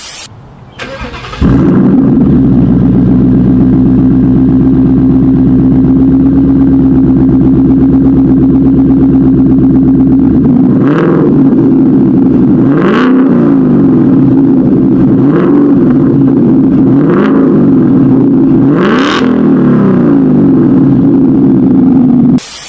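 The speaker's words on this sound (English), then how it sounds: "there is some crackle as well, actually, when you downshift, as well as when you do a couple revs." A 2019 Ford Mustang GT V8 engine starts and idles loudly up close, then is blipped several times, each rev rising sharply with a brief exhaust crackle before settling back to idle.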